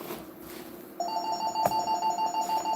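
A telephone rings steadily in a room, a bright electronic ring repeating in even pulses that starts partway through and continues to the end, loud and clear over a faint background hum, with no talking.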